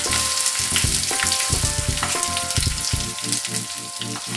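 Garlic and ginger fry in hot oil in a pan: a constant close sizzle with crackling pops and occasional stirring scrapes, loud and without any speech.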